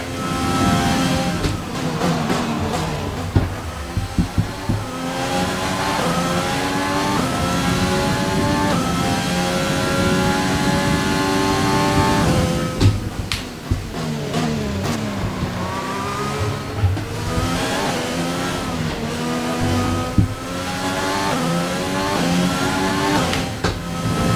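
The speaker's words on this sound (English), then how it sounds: "you can listen to the sound of the engine." A high-pitched Formula 1 car engine in the video game F1 2020 screams continuously, rising and falling through rapid gear changes and revs, loud and close throughout.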